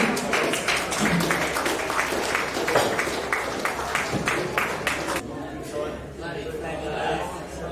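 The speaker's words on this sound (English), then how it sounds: "Keep that clapping going while Colin's walking up here" Audience applause at a boxing hall of fame event, dense clapping from a crowd in a hall with someone speaking over it; the clapping stops abruptly near the end, leaving the room quieter.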